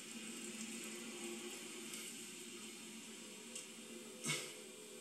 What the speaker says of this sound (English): So then you see all the old oil is coming out.